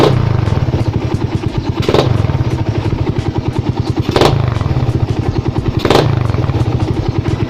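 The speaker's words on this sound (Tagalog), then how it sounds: "Kapag binigla natin yung throttle, meron siyang ingay sa dulo." A Suzuki Raider 150 fitted with an APIDO pipe v3 idles close by, its loud, rapid exhaust pulse broken by three sharp, sudden throttle blips spaced about two seconds apart.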